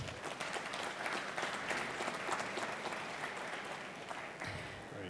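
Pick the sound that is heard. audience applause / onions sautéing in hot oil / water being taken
audience applause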